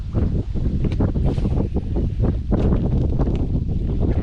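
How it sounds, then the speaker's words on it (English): Strong wind blowing outdoors while casting a baitcasting reel, a steady loud roar of gusts buffeting the microphone throughout. "especially because you can hear that wind picking up"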